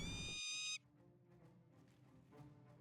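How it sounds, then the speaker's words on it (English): A thin, high whistling bird call from a video game, likened to a sick bird begging for food, sounds briefly and abruptly cuts off, leaving faint low background noise. "Sounds like a sick bird begging for food."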